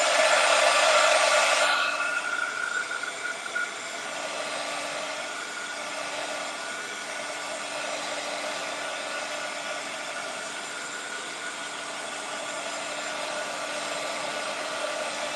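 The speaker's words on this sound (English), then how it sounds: "Now I like to hit it with a little heat." A heat tool blows hot air steadily over a napkin-decoupaged jewelry box, a continuous loud whooshing hiss that surges strongest at the start and then holds at a slightly lower, even level throughout, with no talking.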